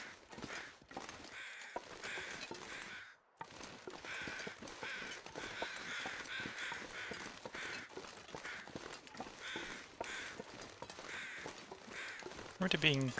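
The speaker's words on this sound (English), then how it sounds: "And the crows have now found the human corpse." Crows caw repeatedly around a human corpse in The Long Dark survival game, with harsh calls recurring throughout over a windy outdoor ambience while someone talks.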